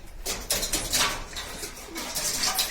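Homing pigeons cooing in a coop, soft repeated throaty coos from several birds close by, with faint rustling and no talk.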